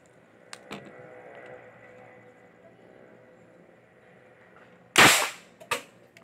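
A homemade PVC pipe rifle fires once with a loud sharp pop followed by a smaller crack, coming after several seconds of quiet background rumble outdoors.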